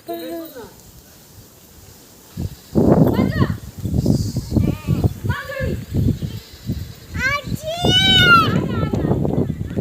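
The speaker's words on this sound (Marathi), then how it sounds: "शेळ्या" Goats on a farm bleat in several loud, wavering calls, clustered mostly toward the end, mixed with nearby voices talking and some wind.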